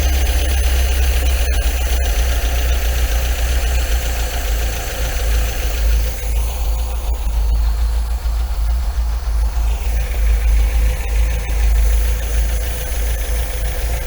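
An MGB car engine idles during a tune-up, giving a steady, loud low rumble with a faint rhythmic knock that holds evenly for about fourteen seconds without speech.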